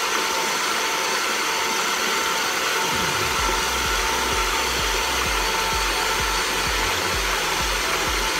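An electric mixer runs steadily while churning homemade chocolate ice cream, a loud continuous motor whir with a low rhythmic churning that begins a few seconds in as the bowl turns, and nobody speaks.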